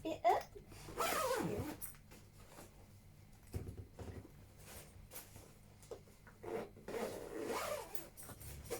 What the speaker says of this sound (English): It's time to zip it up.